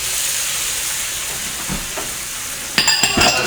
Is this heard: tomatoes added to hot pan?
yes